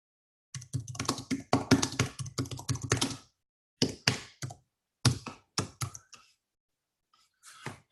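Bursts of rapid key clatter on a computer keyboard as ad text is typed, close and crisp, stopping and starting with short pauses in between.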